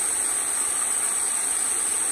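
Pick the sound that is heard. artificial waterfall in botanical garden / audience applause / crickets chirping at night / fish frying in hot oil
artificial waterfall in botanical garden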